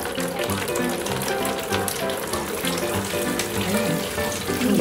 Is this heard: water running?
yes